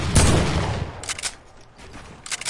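Gunfire from a console video game, a loud burst of rapid shots up front followed by two shorter, sharper volleys, with no talking over it.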